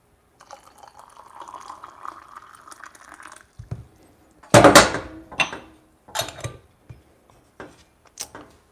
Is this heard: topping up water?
yes